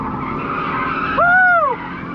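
A brief, sharp tire screech rises and fades over a steady engine drone as a car slides through a turn.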